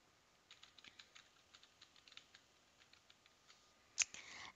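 A password is typed on a computer keyboard in quiet, irregular key taps. A sharper, louder click lands near the end.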